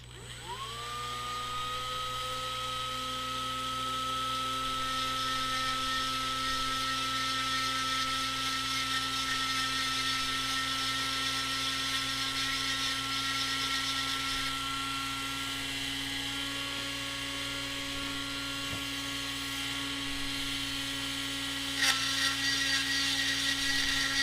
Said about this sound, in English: I'm rolling it around inside the printed part, and I'm trying to grind the walls down